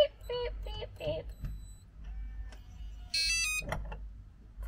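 An electronic keypad door lock on a 2008 Heartland Bighorn 3400 fifth-wheel RV gives a series of short, bright beeps, first a quick run of tones and then a longer chime, close and clear.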